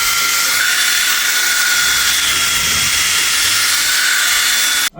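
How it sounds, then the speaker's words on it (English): A power drill with a cleaning attachment whines steadily and close while scouring out a suspension bush housing on a Mk3 Golf GTI, running continuously before cutting off abruptly at the end. "clean this up with one of these on a drill"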